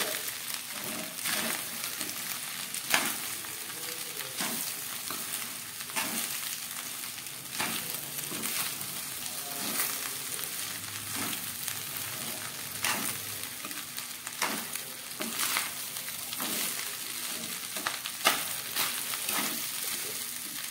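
Chicken egg fried rice is stirred and tossed in a hot frying pan, a soft continuous sizzle punctuated by regular scraping and clacking strokes of the spatula, moderately close.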